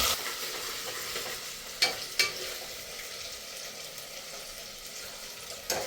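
Onions frying with ginger garlic paste in a pan, a constant hiss of sizzling oil with a few sharp scrapes and clinks of a stirring spoon against the pan.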